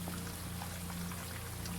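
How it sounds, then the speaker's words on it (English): A video game irrigation system waters garden soil in Blue Prince, a soft, steady patter like light rain, continuous and faint with a low hum beneath it. "that's the irrigation system watering the dirt."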